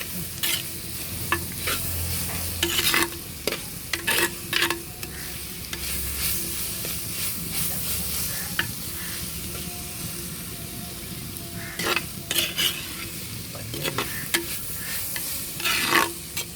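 Kottayam-style chicken curry fries in a pan with a continuous sizzle, while repeated scraping and clattering stirring strokes come in bursts, near and fairly loud, with no voices.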